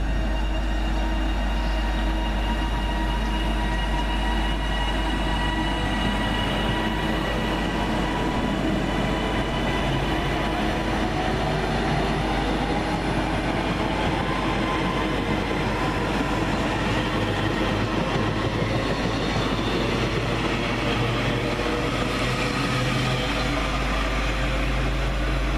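A British Rail Class 397 electric train departs Lockerbie station with a long, loud, steady rumble and rising whine of motors and wheels on track, continuing throughout without speech.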